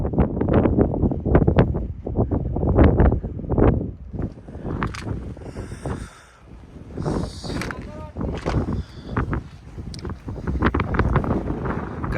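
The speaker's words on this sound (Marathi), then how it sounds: "कडक हवा भरपूर आहे." Strong gusting wind buffets the microphone in the open air on the road from Srinagar to Leh in Ladakh, a loud, continuous low roar that surges and dips, with people talking over it.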